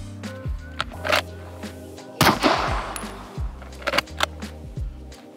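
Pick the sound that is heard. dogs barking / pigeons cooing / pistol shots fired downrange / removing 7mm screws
pistol shots fired downrange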